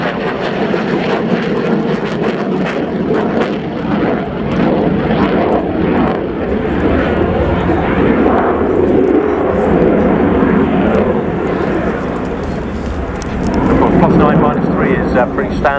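A Belgian Air Component F-16A fighter jet flying its display at an airshow roars continuously overhead with a loud, rushing engine sound that swells near the end, while a commentator talks over it.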